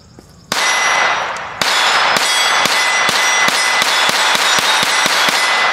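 Taurus TX22 Compact .22 pistol fired rapidly at a range, a loud sharp crack followed by about a dozen quick evenly spaced shots with metallic clang, close and alone.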